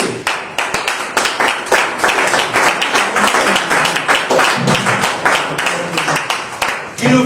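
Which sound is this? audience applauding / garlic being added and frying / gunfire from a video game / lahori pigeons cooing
audience applauding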